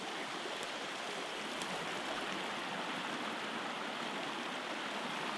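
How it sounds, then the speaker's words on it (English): A river flows steadily past a homestead paddock with mountains around, a constant rushing wash of water heard alone with no voices, even and unbroken throughout. "we're right next to this beautiful river."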